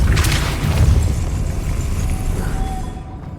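A Depulso spell is cast in the Hogwarts Legacy video game, giving a loud, rumbling boom with a crackling burst at the start that slowly tapers off.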